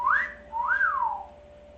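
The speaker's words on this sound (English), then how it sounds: "Give them a whistle." Two rising-and-falling whistles, clear and fairly close, each sweeping up then gliding down, with no talking around them.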